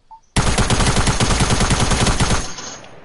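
Automatic gunfire in a PS4 shooter rattles out in one loud, rapid, sustained burst lasting about two seconds, then cuts off into a fading echo.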